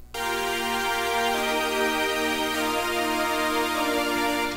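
A sustained synth pad with no EQ applied plays alone, a full, dense held chord that swells in right away and holds steady at even loudness throughout.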